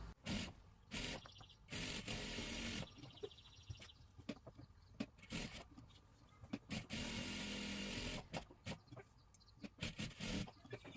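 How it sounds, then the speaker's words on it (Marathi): Domestic sewing machine stitching kurti fabric for a salwar suit, running in several bursts of steady whirring separated by short pauses and faint handling noises. "आता हे आपल्याला इथून शिलाई करून घ्यायचं आहे।"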